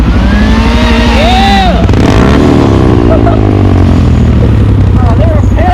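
A motorcycle revs loud and close while doing circle wheelies in a parking lot, the engine pitch rising and falling in sweeps, with people shouting and talking over it.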